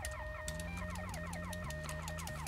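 A police siren in the video game GTA Vice City wails in a rapid repeating up-and-down pattern, loud and continuous over a steady electronic beat, with no talking.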